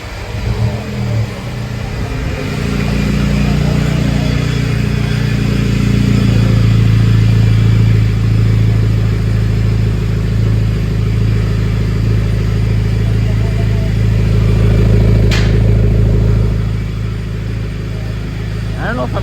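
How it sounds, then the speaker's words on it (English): A Daihatsu Mira engine starts up and idles through a newly fitted custom exhaust, a steady low, rumbling drone that stays loud and close throughout, with a brief rev near the end. "First startup with new exhaust."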